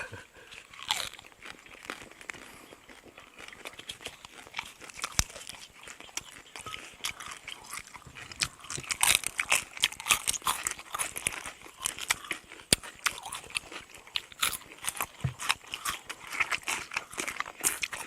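Crisp crackling crunches from someone biting and chewing crispy roast suckling pig skin, close and irregular, with bursts of louder crackle throughout and only brief murmurs of voice.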